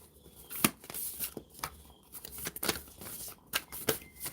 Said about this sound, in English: These cards are very large and hard to shuffle.